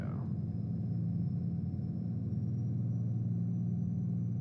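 A truck engine in American Truck Simulator, hauling a 70,000 lb crane, a steady low diesel drone with an even, unbroken rumble from cab level, heard alone without talk.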